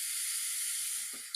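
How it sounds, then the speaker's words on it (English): Chicken pieces hiss steadily in a preheated pan, a loud bright sizzle that holds constant before a brief low clunk at the end, with no talking. "I love the sound of that sizzle."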